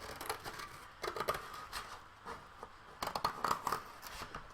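Kitchen scissors snip through stiff card, cutting out circles in short bursts of crisp cuts, pausing between runs, close and fairly quiet.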